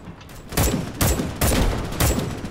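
Gunfire in the video game Starship Troopers: Extermination, four heavy shots evenly spaced about half a second apart, loud and close over a continuous rumble of battle.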